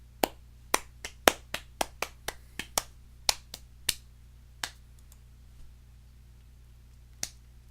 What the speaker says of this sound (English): Dr. Nakabachi enters to sparse applause.